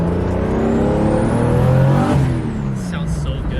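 A big-turbo 2JZ engine swapped into a Subaru BRZ revs hard and loud, its pitch climbing steadily before dropping off as the throttle closes, with a whistling turbo whine over the top.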